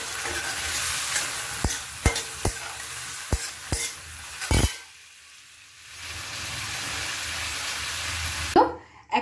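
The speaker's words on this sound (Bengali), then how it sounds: "এবার কিছু কুচো চিংড়ি ভেজে নেব।" Small prawns fry in a pan with a steady close sizzle, broken by sharp clicks and scrapes of stirring. The sizzle drops out briefly midway, then resumes.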